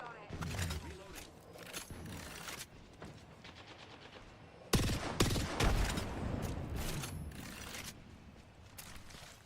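Gunfire crackles in a video game, with rapid bursts of automatic fire and sharp single shots, loud and close, firing in clusters with brief pauses in between.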